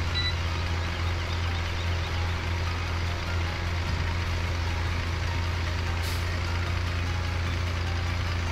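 A tractor in Farming Simulator 17 backs up with a steady low engine drone and a continuous hum, a faint reversing beep audible throughout, close and unbroken with no talk.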